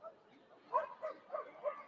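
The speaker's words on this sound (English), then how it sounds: "A lot of barking from Blue Bayou." Dogs at an agility competition bark and yip in a quick run of four or five short, moderately loud bursts over about two seconds, with other sounds around them.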